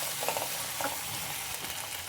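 Pieces of chicken for spicy Andhra-style chilli chicken fry in a pan, giving a steady, quiet hiss of sizzling with faint crackles and stirring throughout.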